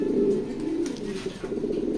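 Racing pigeons coo in a steady low murmur, several birds close by with overlapping throaty calls and no talk.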